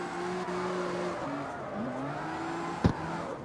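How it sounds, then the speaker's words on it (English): Car engine in the CarX Street racing game holds a steady drone with shifting pitch as the car drifts, with one short sharp burst near the end. "Drifting in this game is quite easy anyway."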